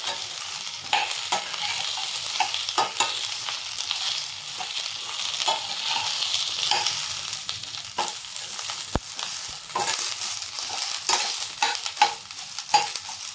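Ripe red chillies for thecha fry in oil in a pan, sizzling steadily as a spoon stirs and scrapes them over and over, close and fairly loud, with a sharp knock partway through.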